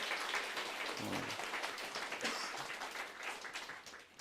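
Applause from a church congregation, steady and fairly quiet, a dense patter of many hands clapping that fades slightly toward the end.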